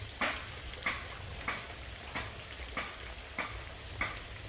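Potato roll samosas fry in hot oil over medium-high heat. A constant bubbling sizzle is broken by regular scraping strokes about every two-thirds of a second. No one talks.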